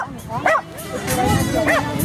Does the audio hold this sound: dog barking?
yes